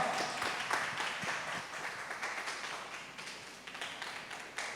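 Audience at a parents' seminar welcoming a speaker with applause, a faint crowd of many overlapping claps that slowly tails off.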